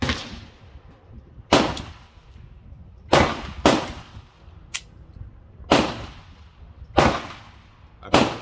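A Ruger Mark IV Tactical .22 pistol fires single shots outdoors, about seven sharp cracks spaced a second or so apart, each loud and close with a brief decaying tail.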